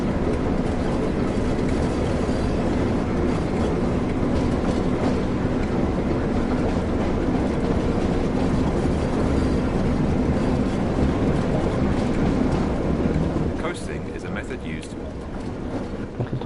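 A train runs along the Tees Valley Line in Train Sim World, a steady loud rumble and rail drone with faint clicking, easing slightly near the end while someone talks.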